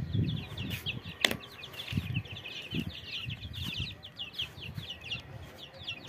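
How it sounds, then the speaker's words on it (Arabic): Free-range baladi chicks, a day or two old, peep in rapid high chirps on a rooftop, a dense, faint chorus over soft background noise with a few thuds. "كتاكيت البلدي يا جماعه يومها بيومين"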